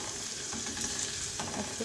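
Chopped garlic sizzles steadily in a hot pan for a pizza sandwich sauce, with faint stirring scrapes over a continuous close frying hiss and no talking.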